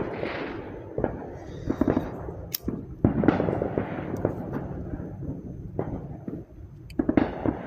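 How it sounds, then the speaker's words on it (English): Fireworks and mini bomb firecrackers go off outdoors during a July 4th celebration, with a string of sharp, loud bangs and crackles scattered over several seconds, the blasts close by and fairly dense. "Come on, light off some more fireworks."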